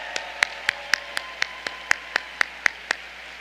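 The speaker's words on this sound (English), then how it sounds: "Join me in a round of applause." A graduation audience at a School of Social Work commencement applauds the faculty: about a dozen sharp, evenly spaced claps ring out close and distinct, with no talking over them.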